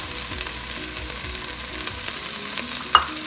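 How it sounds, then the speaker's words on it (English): Salted tomatoes frying in a pan give off a steady, close sizzle with soft stirring, a small clink near the end, no talking. "Then you will cook the tomatoes for around 3 more minutes."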